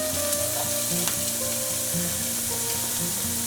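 Onion and garlic sizzle steadily in hot oil in a pan for a vegan tofu sofritas dish, a constant frying crackle at moderate level with background music playing throughout and no talking.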